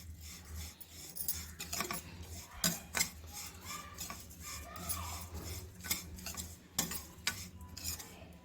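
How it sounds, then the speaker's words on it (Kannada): A spoon scrapes and stirs sugar into a sweet stuffing in a pan on the stove, a quiet continuous rasping with small clinks, no voices. "ಈಗ ನಾನು ಒಂದು 3 ಟೇಬಲ್ ಸ್ಪೂನಷ್ಟು ಸಕ್ಕರೆನ ಇದ್ರ ಜೊತೆಗೆ ಸೇರಿಸ್ಕೊಂಡು ಇದ್ರ ಜೊತೆಗೆ ಮಿಕ್ಸ್ ಮಾಡ್ಕೊಳ್ತಾ ಇದ್ದೀನಿ."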